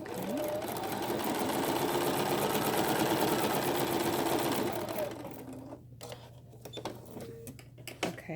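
A sewing machine stitches a quilt block in a steady, rapid run of needle strokes for about five seconds, then stops, leaving a low hum and a few faint handling sounds.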